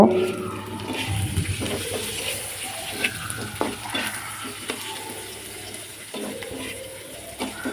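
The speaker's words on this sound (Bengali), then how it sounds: "লবণগুলো মিষ্টি কুমড়ার ছোকলার সাথে মিশিয়ে আবারও 5 মিনিটের মতো ভেজে নিব।" Pumpkin peels mixed with salt frying in a pan, a steady close sizzle broken by scraping stirs and soft clatter, with a faint watery hiss and a low hum underneath.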